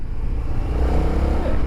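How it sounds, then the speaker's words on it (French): Indian FTR Sport motorcycle engine running loud and close, a steady rumbling exhaust note with faint pops on the overrun. "des petits retours d'échappement assez sympas"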